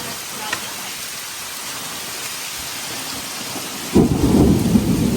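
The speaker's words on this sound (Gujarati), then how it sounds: "પાછી વીજળી થઈ." Steady rain and wind during a thunderstorm, then a loud, close thunderclap bursts in and rolls on as a heavy rumble.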